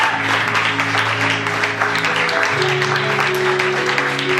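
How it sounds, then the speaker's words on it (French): Church congregation clapping steadily, a loud continuous patter of many hands, with sustained organ or keyboard chords ringing underneath. "Don't stop clapping."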